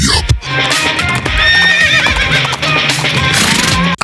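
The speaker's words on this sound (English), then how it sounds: "I don't even know if that's a horse at the end of that. I think it might be a camel" A horse neighs and whinnies loudly in a sound effect with clip-clop hoofbeats, though the final call may be a camel rather than a horse; the sound runs continuously and dense, with no talking.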